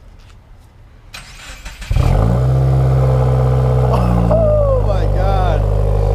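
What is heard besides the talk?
Subaru WRX engine revving with Nameless axleback exhaust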